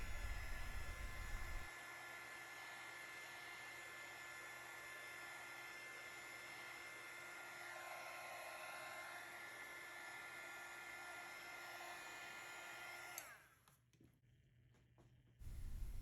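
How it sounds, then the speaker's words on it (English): A heat gun blowing alcohol inks across a tumbler gives a steady, soft airflow hiss lasting most of the span, then cutting off near the end. "With a heat gun, blow off the inks uniformly to give them a pattern."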